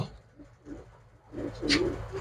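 A female pigeon up close at a pigeon sale, cooing in low, soft throaty bursts that grow fuller toward the end, over a quiet background.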